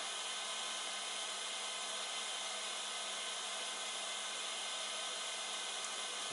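AlfaWise U30 compact 3D printer heating up before a print, a steady unbroken fan-like whir with faint high hiss, constant and alone with no voices.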